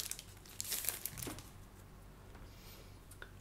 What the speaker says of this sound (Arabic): خلينا نفتح الباكيت